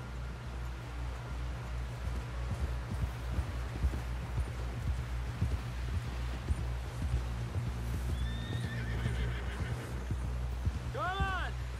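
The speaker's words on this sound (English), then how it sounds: "Someone help John down off this horse" Hooves clip-clop steadily under a horse in Red Dead Redemption 2 while voices talk over them, with a shrill whinny rising near the end.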